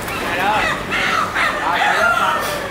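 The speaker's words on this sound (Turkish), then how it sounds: "Tavuklar bağırıyor gariplerim." Chickens in Macau squawk and cluck loudly close by, several harsh cries overlapping in quick bursts.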